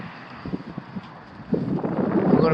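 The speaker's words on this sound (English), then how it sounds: "It's windy." Gusty wind buffets the microphone at a new-construction house exterior, soft at first, then swelling into a louder, continuous rumble of rushing air.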